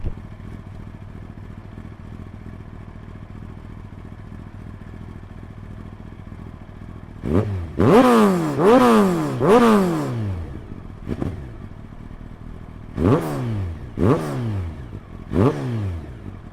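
A 2002 Kawasaki ZX12R sport motorcycle fitted with a Power Commander 3 idles steadily, then gets blipped in a burst of three loud throttle revs, a lone short rev, and three more sharp revs that each rise and fall back to idle.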